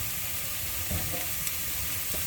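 Raw chicken goes into a pan of frying biryani masala over raised heat, giving a steady sizzle with a few scraping stirs and clinks of the spoon, no one speaking.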